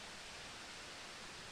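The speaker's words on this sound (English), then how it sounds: "the waterfall is quite active, and there's a lot of water" A waterfall in Trentham near Melbourne, running full after heavy rain, gives a steady, even rush of falling water, heard faintly and continuously without any voices.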